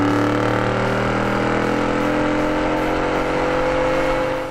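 A 2015-2018 Ford F150 with the 5.0L V8 and a Flowmaster American Thunder dual side/rear-exit exhaust holds a loud, steady rumbling rev, with strong low harmonics throughout and a slight drop at the end.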